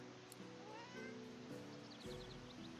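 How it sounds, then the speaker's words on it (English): A cat meowing in the Divinity Original Sin 2 video game, a few short meows over a steady bed of ambient game sound, moderately close, with no talking. "He stares at the fish and meows,"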